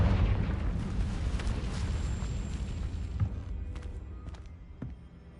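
A Confringo spell explosion in the video game Hogwarts Legacy bursts loud and close, then fades into a rumbling roll with scattered crackles and debris thuds.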